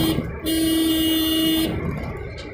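A car horn honks once in a long steady blast lasting over a second while a car is driven in traffic during a driving lesson, with engine and road noise continuing afterward.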